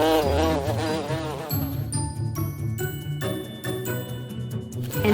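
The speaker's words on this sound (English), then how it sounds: "she heard a buzzing noise" A bee buzzes as a light, wavering drone over soft tinkling music, steady and close for a few seconds in a children's story setting.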